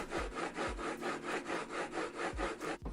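A chisel is worked back and forth on 400, 600 and 1000 grit sharpening stones, giving a steady rhythmic gritty scrape about twice a second, close and fairly loud, with no talking.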